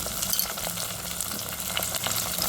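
Drumstick pieces and whole green chillies fry with onions for a mixed vegetable pulusu, giving a close, steady sizzle with frequent small crackles and stirring sounds.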